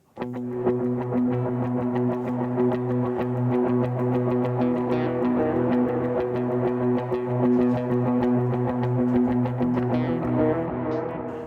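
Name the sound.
electric guitar picking with suspended chord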